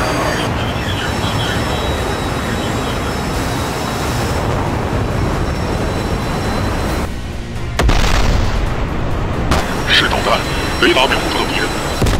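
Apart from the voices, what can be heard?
missile launches and explosions in naval combat video game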